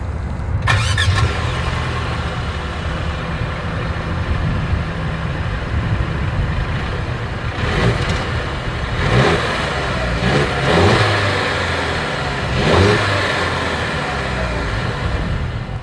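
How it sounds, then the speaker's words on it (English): A 2023 Mercedes-Benz GLC 300 engine starts with a sharp crank, settles into a loud idle, then revs several times with rising, throaty bursts from the exhaust. "Here is that exhaust clip."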